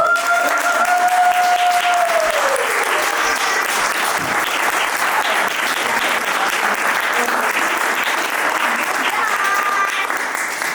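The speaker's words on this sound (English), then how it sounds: "how about giving them another round of applause?" Crowd applause after a Maori haka performance at a Maori village, a broad, sustained clapping wash lasting around ten seconds, with a few whoops and a voice rising over it early on.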